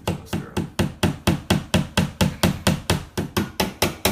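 A hammer strikes a wall in a steady rhythm, about sixteen loud, even blows at roughly four per second, with no talk.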